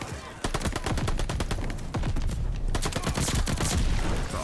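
Rapid automatic gunfire from an MP40 submachine gun in the Call of Duty: Vanguard video game, sustained bursts of closely spaced shots running nearly the whole time, loud and up close with no pauses.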